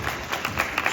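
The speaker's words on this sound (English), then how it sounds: "why don't we give a big round of applause to our panelists as well as the moderator" Brief burst of audience applause in a conference hall at the Busan International Advertising Festival, close and fairly loud with uneven clapping peaks.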